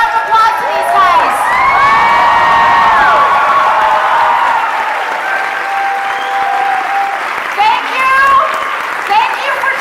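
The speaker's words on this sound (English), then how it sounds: "I think everybody needs to get on their feet to give one last round of applause to these guys." A standing crowd at a convention panel honoring Stan Lee's lifetime achievement award breaks into loud, sustained applause with cheering, whoops and children shouting, steady and close throughout.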